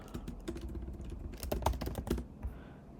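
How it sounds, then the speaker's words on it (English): Fingers type on a computer keyboard in quick, uneven clusters of close clicks and keystrokes, with a few short pauses. "I can't talk and type at the same time."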